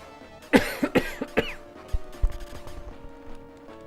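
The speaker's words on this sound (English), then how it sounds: "I'm gonna have to cough, I'm afraid," A person coughs several times in quick bursts, close and loud, over faint background music from a Mega Drive role-playing game.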